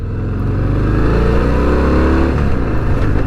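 A Harley-Davidson Fat Bob 114 motorcycle with stock exhaust revs steadily and loud, a deep rumbling exhaust note rising and falling slightly over a few seconds, no voices.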